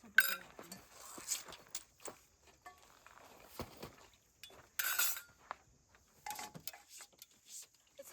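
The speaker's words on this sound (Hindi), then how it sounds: "तो तुम इतने बर्तन साफ़ कर लो" Dishes being washed at a forest campsite in Uttarakhand: scattered clinks and clatters of utensils with splashy scrubbing bursts, fairly faint and irregular, with outdoor background noise.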